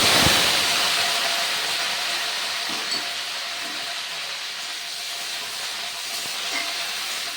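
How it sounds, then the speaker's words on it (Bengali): Boiled potatoes fry lightly in a pan with dried chillies and whole cumin, giving a steady broad hiss that starts a little louder and then holds even and close, with no talk. "আলুটা একটু আমি হালকা হালকা ভেজে নিব"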